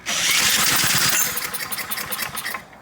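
A snow blower engine is pulled to start but fails to catch: a loud whirring crank first, then a rapid rattling chug of short sputters that dies away.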